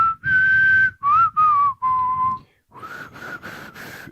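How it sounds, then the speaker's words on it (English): Someone blows a few short puffs of breath straight into a microphone, close and loud; the first bursts carry a faint tonal whistle-like edge, then several softer breathy gusts follow in quick succession. "that's just you blowing into the microphone"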